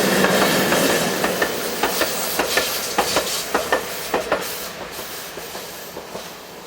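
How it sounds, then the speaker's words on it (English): Several locomotives coupled together as a convoy roll along the Semmering railway in Austria, a steady rumble overlaid by a regular run of clickety-clack wheel beats over rail joints, moderately loud and without any talk. "a convoy of locos heads east"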